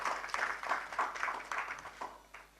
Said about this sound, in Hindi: एक जोरदार ताली से इनका